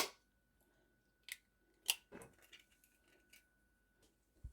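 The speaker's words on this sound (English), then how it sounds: "So I'm going to crack my egg" An egg cracked for a homemade doughnut batter: a couple of sharp, brief shell taps against a bowl edge, close and fairly quiet, followed by small handling clicks with no talking.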